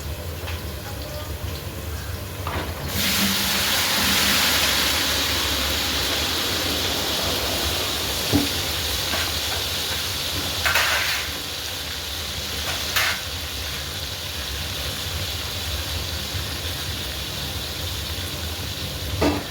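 Cut brinjal tipped into a pan of browned onions sets off a loud, steady sizzle of frying that holds for the rest of the stretch, with occasional stirring knocks and a faint voice underneath.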